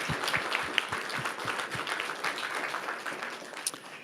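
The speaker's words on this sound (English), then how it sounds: "Another round of applause for all of our semifinalists" Steady applause from an audience at a school district legislative meeting, honoring student semifinalists; a sustained, moderately loud round with no talking over it.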